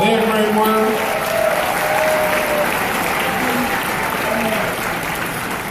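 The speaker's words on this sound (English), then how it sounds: "Let's give them a round of applause for their great work." A gala audience gives the co-chairs a steady round of sustained applause, a dense wash of clapping from a large crowd that holds evenly throughout.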